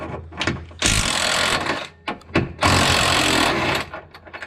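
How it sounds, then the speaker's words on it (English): Impact wrench on a 2009-2020 Nissan 370Z front lower control arm, spinning out a 17 mm bolt on the inner side: two loud, sustained rattling bursts, each about a second long, with short taps and handling noises between them. "I should be able to fire that 17 mil out on this inner side as well."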